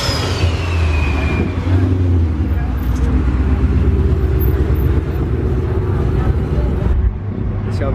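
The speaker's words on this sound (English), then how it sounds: "Shelby Mustang." A Shelby Mustang at a car meet gives a loud, steady rumble that rises briefly then holds, close and continuous, with traffic noise around it.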